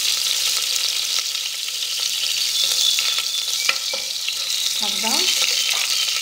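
Oil and a knob of butter sizzle steadily in a pot for white chicken soup, a constant close hiss with faint crackles and a brief clink near the end, with a single short spoken word.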